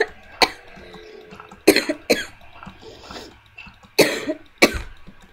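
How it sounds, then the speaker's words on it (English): A person coughs in several sharp, wet bursts, some in quick pairs, with short quiet gaps between them, close by. "I've just been coughing the last few days here."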